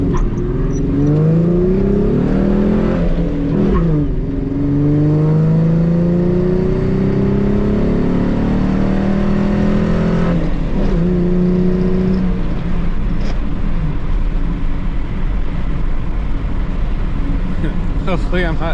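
A Mustang V6 with an added aftermarket exhaust and intake revs hard and close, its pitch climbing and falling in repeated loud pulls over a steady rumble.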